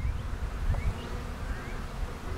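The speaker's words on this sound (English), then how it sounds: "It's the strongest hive we have, and it's just absolutely packed with bees." A low, dense hum of many honey bees buzzing together around a packed hive, steady and close, with a few individual bees whining past.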